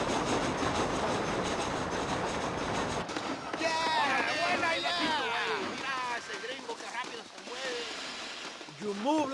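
Train rolling on rails in the western video game Red Dead Redemption, a steady rumbling wash of wheel noise that thins out midway, with voices talking over it.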